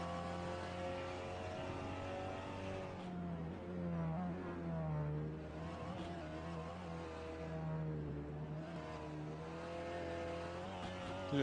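Sim racing cars in a racing game series, with engines revving up and down through gear changes as a car runs down a straight, a continuous whining drone rising and falling in pitch.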